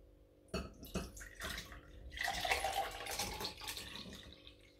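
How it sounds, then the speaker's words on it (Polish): Mushroom soaking water poured from a pot into a glass gives a few short splashes, then a longer liquid pour with faint trickling, quiet and close in a kitchen. "Odlewamy z wodę z grzybów do szklanki."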